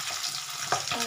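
Tangra fish frying in hot oil, a steady close hiss with a few sharper crackles and spatters toward the end, no voices.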